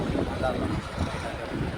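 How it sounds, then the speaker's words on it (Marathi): Strong cold wind blows over the sea during rain aboard a fishing boat off Mumbai, a steady loud rushing roar buffeting the microphone throughout. "थंडी लागायला लागली वारा गारगार सुटलाय आणि वारा सुटलाय खतरनाक"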